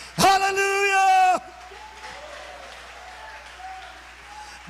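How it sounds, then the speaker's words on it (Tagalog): A church congregation claps together in a brief burst, joined by a loud sustained voice over the clapping, before settling into quieter murmuring and speech. "Palakpakan natin ang malakas ang ating mahal na Panginoon."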